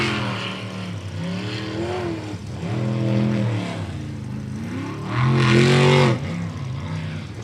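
Racing boat engine in a pro race, the throttle feathered so the pitch repeatedly rises and dips, surging loud and steady with no voices.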